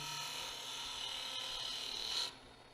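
Skew chisel shaving a spinning wood piece on a lathe, a continuous bright hissing rasp that holds steady for over two seconds, then cuts off abruptly, leaving a low motor hum.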